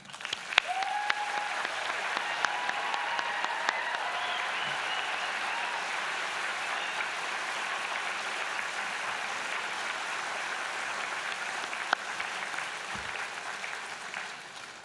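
An audience applauds at a college convocation ceremony, sustained steady clapping from a large crowd filling the hall at moderate level, with no speech over it.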